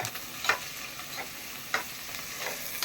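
Chopped onions fry with salt in a pan for mutton biryani masala, giving a steady close sizzle broken by regular scraping stirs roughly twice a second.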